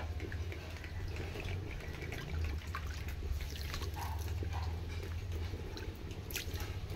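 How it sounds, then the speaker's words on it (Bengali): A bowl of water is poured onto sugar in a pot to make syrup for palm jalebi, a close, continuous splashing trickle with small drips over a low steady hum. "এক বাটি জল দিলাম।"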